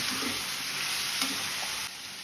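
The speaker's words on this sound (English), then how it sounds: "Colocacia having some sticky consistency, that's why we can stir continuously." Sticky colocasia (taro) pieces fry in a pan while being stirred, a steady close sizzle with a couple of soft scraping thuds and a slight drop in level near the end.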